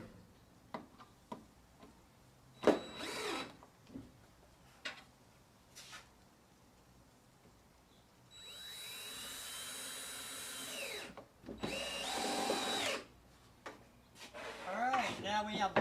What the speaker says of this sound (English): it's harder to drill into a knot